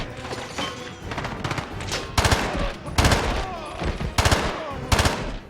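G36 rifle fire in 007: Blood Stone, with sharp, loud bursts of automatic shots repeating every second or so over steady game background noise.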